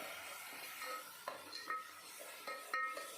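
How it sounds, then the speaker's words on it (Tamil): A spoon stirs tomato spice paste and curry leaves in oil for a Tamil mutton bone gravy, giving faint, quiet scraping with a few light metallic clinks against the pan. "இப்போது நல்லா ஆயிலில் நல்லா மிக்ஸ் பண்ணி விடுங்க, வதங்கி வரணும்."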